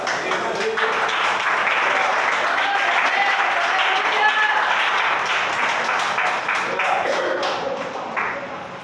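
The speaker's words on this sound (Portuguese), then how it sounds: "A igreja senta-se e bate as palmas para Jesus." A church congregation applauding for Jesus during a service, sustained dense clapping from many hands that carries on steadily for several seconds and fades slightly at the end, with voices mixed in under it.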